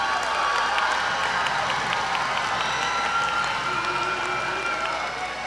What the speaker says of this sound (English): Please give the graduates in row 8 a round of applause.